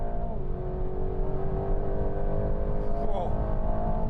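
An Aston Martin Vantage launches hard from a standstill, its engine note rising steadily as it accelerates, loud and close throughout with no talk over it.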